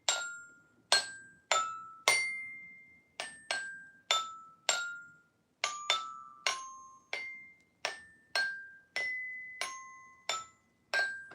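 A child's toy hammer strikes bright, ringing tones one after another, picking out a simple tune at a steady pace. Each note rings briefly and decays before the next.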